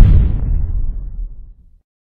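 A loud, close explosion sound effect in a birthday collab edit, one heavy boom with a deep rumble that decays over about a second and a half, heard alone.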